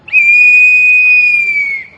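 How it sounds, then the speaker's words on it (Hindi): A single loud, piercing whistle blast held for nearly two seconds at a political press conference, steady pitch dropping slightly before it cuts off, close and dominant over faint background. "ये सीटी है, ये सीटी कल बजाई गई वहां पर।"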